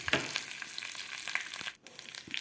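Dry red chillies and curry leaves crackle in hot oil with mustard seeds, a tempering for amla tambli; a steady close sizzle with light pops runs throughout, briefly dropping near the end.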